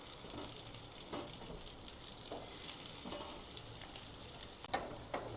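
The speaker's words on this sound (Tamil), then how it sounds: "அதில் நம்ம வெங்காயத்தை வதக்கிக்கலாம்" Onions sautéing in oil for a coconut chutney, a soft continuous sizzle broken by periodic scraping strokes of a spoon stirring the pan, with a louder clack near the end.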